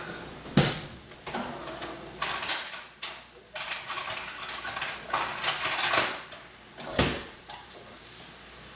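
A spatula scrapes and knocks against a pot while rice is stirred over the heat, with irregular clanks and scrapes, some sharp and close, between quieter stretches.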